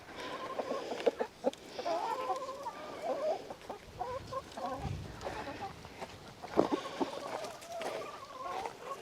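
Chickens cluck and chatter in a steady stream of short, close calls, with a few sharper squawks rising above the flock noise.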